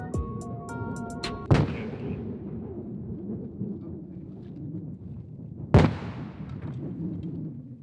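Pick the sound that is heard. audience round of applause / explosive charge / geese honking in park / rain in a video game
explosive charge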